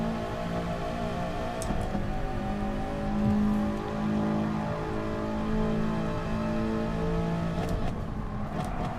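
A race car engine in a racing game at Suzuka, holding a steady, tonal drone that rises and falls through gear changes as it accelerates out of a hairpin, with light rain-like hiss underneath.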